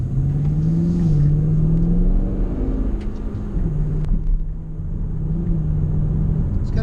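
A car engine growls as the driver gets on the throttle after a flat S-curve, a steady low drone swelling and easing in pitch, close and moderately loud with no talking.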